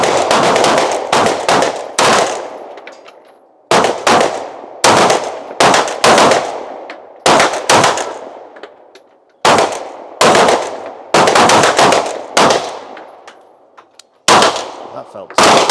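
SIG P210 9mm pistol fired on a 25 m outdoor range during a Feldschiessen shooting event: about a dozen sharp, loud shots in irregular clusters, each with a ringing decay, some following one another closely.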